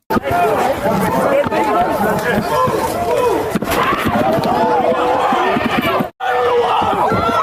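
Unruly crowd at a food stamp protest: loud, dense chatter and shouting from many close voices, overlapping continuously with occasional bumps and thuds, cut by one brief dropout near the end.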